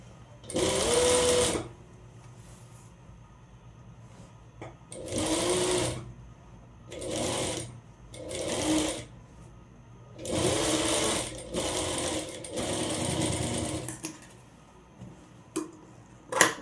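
A sewing machine stitches a 1/4 inch neck seam on a one-piece umbrella frock in loud, close bursts of rapid whirring, about six runs separated by short pauses with quiet handling between them.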